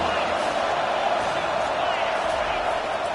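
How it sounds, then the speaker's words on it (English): A stadium crowd roars steadily in College Football 25 as the defense lines up on third down, a continuous loud wash of cheering with a commentator talking over it. "Decibels rising as the crowd gets behind this defense on 3rd down"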